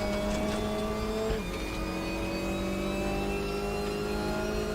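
An Opel Astra TC race car in the RaceRoom video game drones steadily at high revs, its engine note shifting as it holds through a corner on the Vålerbanen track, loud and close with no voices.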